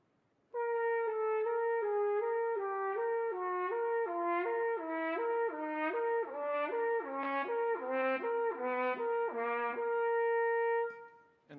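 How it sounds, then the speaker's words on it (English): A trumpet plays a slow, slurred legato interval exercise, one sustained tone flowing smoothly into the next for about eleven seconds, close and clear with no talking. "I began by playing it slurred and playing it with a just nice sort of legato"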